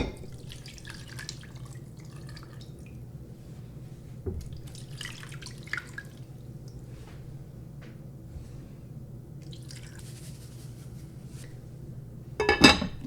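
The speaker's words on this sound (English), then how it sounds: "I'm gonna add more water and salt." Water runs steadily into a crock pot for rendering tallow in a quiet kitchen, with faint trickles and splashes throughout and a brief clatter near the end.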